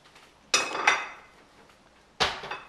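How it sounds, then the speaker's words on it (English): A plate is fetched in a kitchen, giving a sharp ceramic clatter and knock, then a second clink about two seconds later, close and fairly loud, with no talking. "And I'm gonna go get a plate to put that on."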